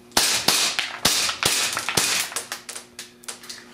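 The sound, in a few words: airsoft gas blowback gun firing BBs rapidly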